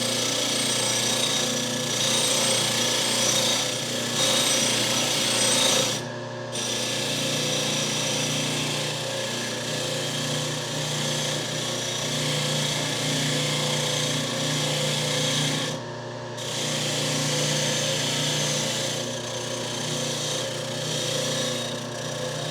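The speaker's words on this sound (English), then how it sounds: "let's start up the wire wheel here and get going" A power wire wheel scrubs vintage Craftsman ratchet parts with a loud, continuous, harsh whirring grind, briefly dipping twice as the part is lifted away, then resuming steadily with no talking.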